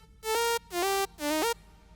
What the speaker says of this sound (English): So without it would sound like this